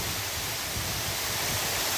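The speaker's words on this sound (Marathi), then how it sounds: "हा आहे निसर्गाच्या नयनरम्य कुशीत विसावलेला बारमाई वाहणारा हेरंब धबधबा" A steady, unbroken rush of water from the year-round Heramb waterfall, loud and close, filling the whole moment without voices.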